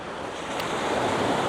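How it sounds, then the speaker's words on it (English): Sea waves of an incoming tide washing over rocks on the coast at Skateraw, a broad steady surf roar with wind rush on the microphone and no talk. "Now we have an incoming tide."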